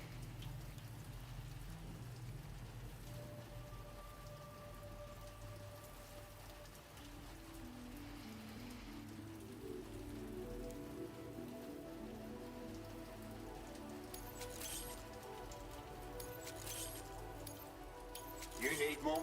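Steady rain in Death Stranding 2 patters across surfaces at a constant moderate level, with low musical tones and a voice speaking over it throughout.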